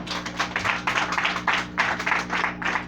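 A church congregation applauding during a sermon: a run of bursts of clapping in uneven pulses, moderately loud over a steady low hum, lasting about three seconds.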